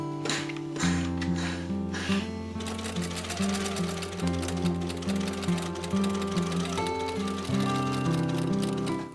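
A sewing machine running continuously as it stitches a holiday dress with a built-in corset, producing a fast, even mechanical whir with rhythmic needle clatter and brief changes in speed, close and steady, with no talking.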